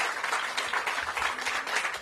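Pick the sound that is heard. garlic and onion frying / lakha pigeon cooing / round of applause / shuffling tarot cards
round of applause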